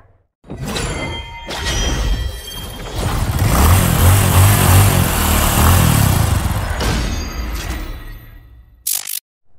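A motorcycle engine revs up loud and close, holds a strong sustained roar for several seconds, then dies down and cuts off, with a few clunks near the end.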